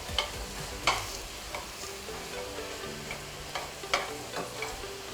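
Minced meat browns in a hot pan for shepherd's pie, giving a soft, steady sizzle broken by a few sharp scrapes and clinks of stirring, with no voices.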